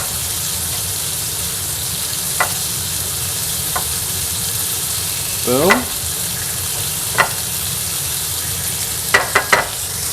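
Onions stirred and frying in a hot pan while a sandwich cooks, giving a steady broadband sizzle throughout, with a few sharp utensil scrapes and clinks against the pan, close and loud.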